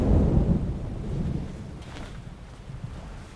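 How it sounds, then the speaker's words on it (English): Thunder and rain in the video game Death Stranding, a deep rumble that fades over a few seconds above a steady wash of rain and wind, heavy and close with nobody talking. "The rain in this place makes an avalanche look like a snowflake."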